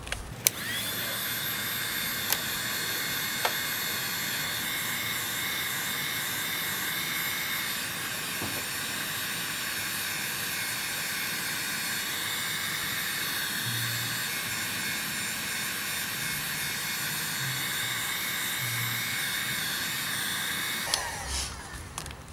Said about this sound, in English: keep the heat gun moving